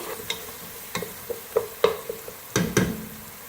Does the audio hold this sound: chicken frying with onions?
yes